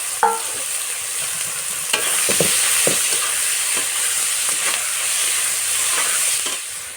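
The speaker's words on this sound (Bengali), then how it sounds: "সেই তেলের মধ্যে জিরে ফোড়ন দিয়ে দিলাম ফোড়নটা হয়ে গেছে এবার এখানে আমি চারটা বড় সাইজের পেঁয়াজ দিয়েছিলাম কিছু করে সেটা দিয়ে দিলাম" Four large onions frying in leftover fish oil tempered with cumin seeds, a steady close sizzle broken by clinking stirring strokes throughout.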